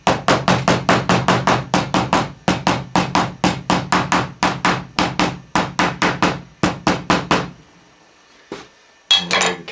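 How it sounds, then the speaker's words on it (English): Rapid, evenly spaced hammer taps ring out in quick bursts, sharp and close, pausing briefly before a couple of final knocks, securing parts while making a bullwhip. "Just tap those in, make them secure with a hammer."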